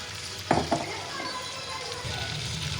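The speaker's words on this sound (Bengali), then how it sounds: "এবার মেখে রাখা চিকেনটা দিয়ে দিব" Marinated chicken dropped into hot spiced oil for chicken do pyaza, a sharp burst of sizzling and a couple of stirring clatters early on, then steady frying hiss close by.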